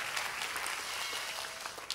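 Church congregation applauding the worship team, a faint, even patter of many hands clapping at a distance, fading slightly toward the end.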